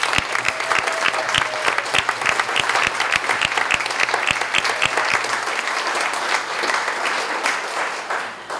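Sustained audience applause at a Story County Democrats summer fundraiser, honoring Ryan Melton; dense, steady clapping from a sizable room that holds throughout at a fairly loud level.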